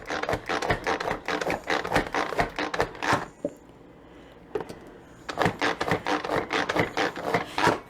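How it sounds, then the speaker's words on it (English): Rapid knife chops on a cutting board as vegetables are cut for a pasta salad, dense bursts of close, sharp taps with a brief pause in the middle, no talk. "And so I'm just going to chop this up"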